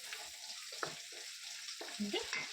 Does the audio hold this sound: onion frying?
yes